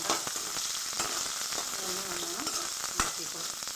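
Sliced onion frying with garlic in a pan of oil for chicken masala, a steady close sizzle with light stirring clicks and a spoon knock near the end, no talking.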